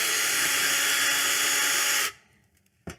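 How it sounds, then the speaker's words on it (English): A power drill with a 1/8 inch bit boring a pilot hole, likely into sheet metal, in a steady loud whir for about two seconds before stopping abruptly, followed by a brief clatter. "I'm going to start off with an 1/8 inch drill bit"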